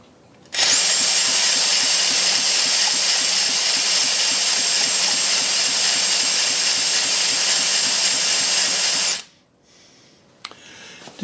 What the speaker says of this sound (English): Did get a couple of half-hearted fires then.